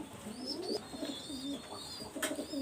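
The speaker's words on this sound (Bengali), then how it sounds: "খুবই ছটফটি অ্যাক্টিভ কবুতর" Restless, active pigeons coo in a steady run of low, rolling calls, close and fairly loud, with a few higher chirps breaking in near the end.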